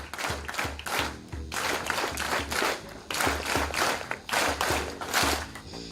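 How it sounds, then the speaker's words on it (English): A university audience at a first-year welcome address claps together in unison, a run of loud, rhythmic synchronized claps in several bursts filling the room, with no talking. "So let us start with 5 very strong claps."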